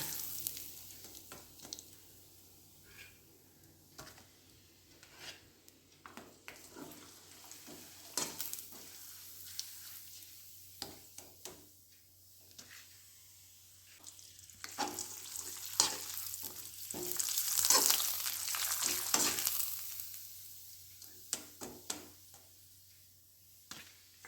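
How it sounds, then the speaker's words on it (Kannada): Thin homemade jackfruit papad fries in hot oil, a soft continuous sizzle with scattered crackles and pops that swells into a busier bubbling burst midway, then settles back, with no voices. "ಈಗ ಹಪ್ಪಳವನ್ನು ಎಣ್ಣೆಯಲ್ಲಿ ಹುರಿದು ನೋಡುವ."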